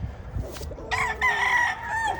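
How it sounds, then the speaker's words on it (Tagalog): A rooster crows loudly and close by, one long drawn-out call over faint background clucking and farmyard noise. "Gandang manok."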